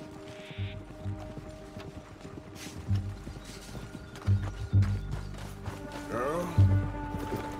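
Horse hooves gallop in Red Dead Redemption 2, a steady clip-clop rhythm with occasional heavier thumps, set under game music and a brief spoken voice.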